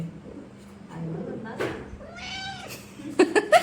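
A cat meows in a couple of drawn-out, rising and falling calls close by, with people talking around it and a few sharp taps at the end.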